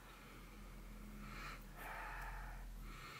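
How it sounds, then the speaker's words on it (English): Someone takes close, quiet sniffs of a coconut body scrub: two or three short nasal inhales spaced about a second apart, soft and breathy against a faint low hum. "Let's give this one a sniff."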